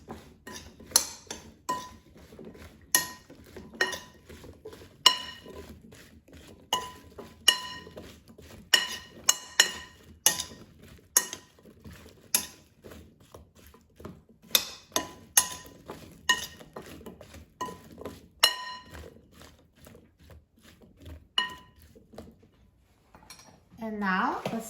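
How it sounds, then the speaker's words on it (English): Sliced zucchini is tossed with oil and seasonings in a bowl, giving a string of sharp clinks and knocks of a utensil against the bowl at an uneven rhythm, close and fairly loud, fading toward the end. "now let's toss it to make sure that zucchini is coated with oil and seasonings"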